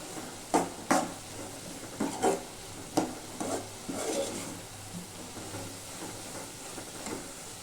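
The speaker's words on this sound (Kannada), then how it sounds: "ಮನೇಲಿ ಮಾಡ್ಕೊಂಡಿರೋಂಥ ಸಾಂಬಾರು ಪೌಡರು ಒಂದು ಅರ್ಧ ಸ್ಪೂನ್ ಹಾಕ್ಕೊಳ್ಳೋಣ ಹಾಕ್ಕೊಂಡು ನೀಟಾಗಿ ಮಿಕ್ಸ್ ಮಾಡ್ಕೊಳ್ಳೋಣ" Spoon stirring homemade sambar powder into an avarekalu upsaaru in a pan, a few soft scraping strokes with light sizzling underneath, close and fairly quiet, no voices.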